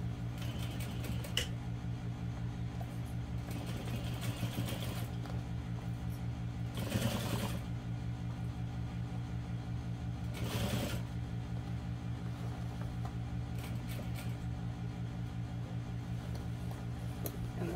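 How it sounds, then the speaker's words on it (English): Sewing machine stitching a seam through vinyl and waterproof canvas at stitch length 4, a steady low mechanical hum with short bursts of faster needle chatter, close and alone. "we're going to sew this seam allowance"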